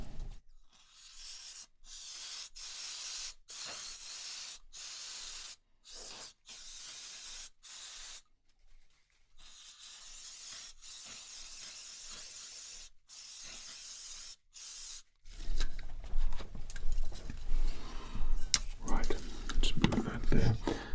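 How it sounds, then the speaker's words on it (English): Compressed-air duster blasting dust off a dirty PC game: a long series of short, close hissing spray bursts with brief gaps, followed by denser scraping and rustling handling sounds near the end. "we're going to initially give it a dust off spray"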